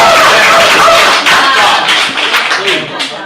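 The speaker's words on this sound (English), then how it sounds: "Clapping and screaming in there." Audience at a city commission meeting claps loudly and steadily for about three seconds, dense and near, with shouting and voices mixed in before it thins out.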